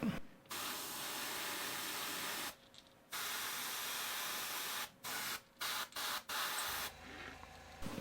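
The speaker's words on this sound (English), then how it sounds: "two more things we got to do with the airbrush real quick before we move on to our final steps" An airbrush sprays paint onto a green pumpkin fishing lure in a steady, close hiss broken by several short pauses and quick on-off bursts near the end.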